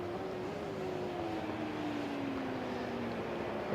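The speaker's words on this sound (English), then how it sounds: "the noise it makes with a beautiful V4 engine" Racing motorcycle with a V4 engine at an Asia Road Racing Championship round, a steady high-pitched engine tone that slowly falls in pitch over constant broadband roar, heard at a distance with no talk.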